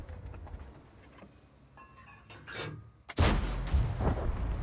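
A tank gun shot in World of Tanks lands as a loud, sudden boom about three seconds in, after quieter battle ambience. It rolls on into sustained rumbling and crackle.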